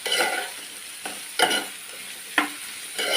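Onions cooking in a pan are stirred, scraping strokes about once a second over a steady close sizzle, with no voices.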